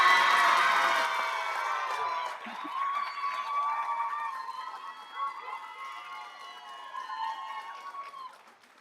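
Crowd at a school board meeting cheering and whooping loudly at first, then fading into lighter cheers and shouts.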